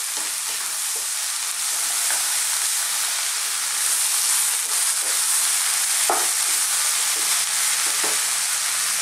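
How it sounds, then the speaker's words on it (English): Spice powders are stirred into vegetables frying in a pan for a chickpea spinach curry. A loud, continuous sizzle runs throughout, with occasional soft scrapes of stirring and no talk. "Just want to get these powders mixed through the vegetables we have."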